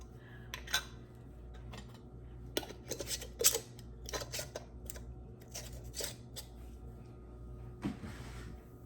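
Metal lids being screwed onto glass jars of hot rhubarb vanilla jelly, with a series of sharp clicks, scrapes and light clinks at close range, repeated in irregular bursts with no talking.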